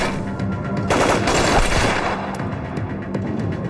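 Rifle gunfire in a Chinese TV drama, a loud rapid burst of overlapping shots with boomy echoes and irregular follow-up cracks over several seconds.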